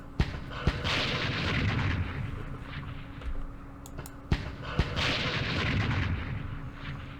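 Mortar rounds in the Vietnam war game Campaign Series Vietnam, set at the Battle of Hue, land as sharp booms over a continuous rolling roar of distant battle. Several cracks punctuate the din.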